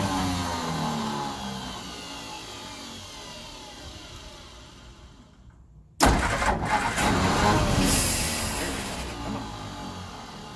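A 1964 Olson Kurbside stepvan bread truck that sat for 29 years cranks, then abruptly catches and fires up, settling into a loud, rough steady run close by.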